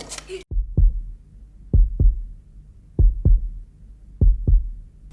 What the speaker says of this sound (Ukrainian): Серце б'ється. Щосекунди сповільнюючи свій ритм.